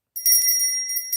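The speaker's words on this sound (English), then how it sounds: "I got the bell of hope." A small metal hand bell, the bell of hope, rings out bright and close in one sustained shimmering peal with a slight pulsing rattle and no voices.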